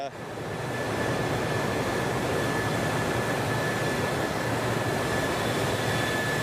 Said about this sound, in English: it's not pure silence when you get into a hangar with an aircraft that's live